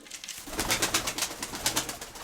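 Pigeons in a loft coo steadily in a soft, rhythmic murmur, close and continuous, with a faint rustling background.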